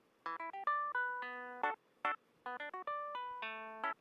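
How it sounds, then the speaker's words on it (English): Clavinet layer isolated from a song mix, playing short funky stabs and held chords in two repeated phrases, clear and alone with no talking. "there's actually a clavinet in here somewhere"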